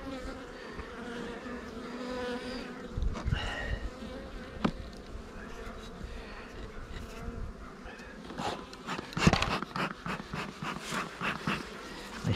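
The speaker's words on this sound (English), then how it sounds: "The bees are not liking me today, guys." Many honey bees buzz steadily close by around an open hive on an overcast day, a droning swarm with individual insects rising louder as they fly near, plus occasional rustling handling sounds.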